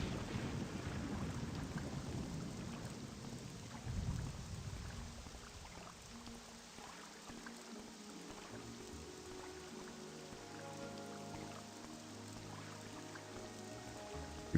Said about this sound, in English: time to kick back and enjoy the rainy sounds